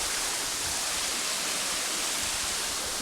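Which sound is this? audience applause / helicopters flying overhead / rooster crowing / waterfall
waterfall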